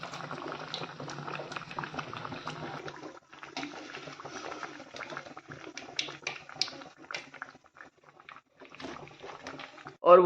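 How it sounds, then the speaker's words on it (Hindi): Bread pakoras sizzle and crackle as they fry in hot oil, a steady faint bubbling with scattered pops throughout. "1-2 रह गए हैं तो वो भी फ्राई करते हैं"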